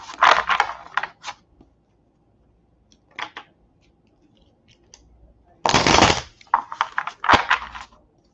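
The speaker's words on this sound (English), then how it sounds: "So let me shuffle." A tarot card deck is shuffled by hand in close bursts of crisp riffling and flicking, with quiet gaps between the shuffles.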